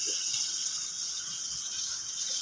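Water pours steadily into a cats' drinking bowl, a continuous close splashing hiss with no voices.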